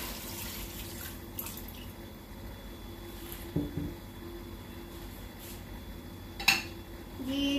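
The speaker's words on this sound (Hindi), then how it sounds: "और ये 2 ग्लास पानी है, इसे भी शामिल करते हैं।" Two glasses of water are added to a pot holding 1 kg of mutton tripe for a Pakistani ojri curry, with faint drips, splashes and clinks of utensils against the pot in a quiet kitchen.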